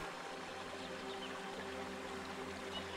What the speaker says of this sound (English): Your mind is focused on the lovely sound of the water washing by.